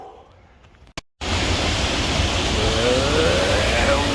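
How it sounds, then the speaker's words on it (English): A waterfall in the Brecon Beacons roars as a loud, steady broadband rush of falling water close by, kicking in abruptly after a brief quiet moment and continuing unbroken. "Waterfall!"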